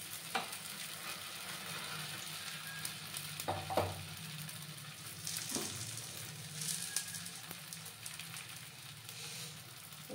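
Wheat flour batter fries in an oiled pan for a snack, giving a soft, steady sizzle with occasional crackles and light scrapes, fairly quiet and with no one talking.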